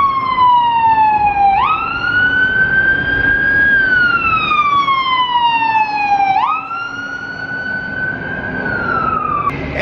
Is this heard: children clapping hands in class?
no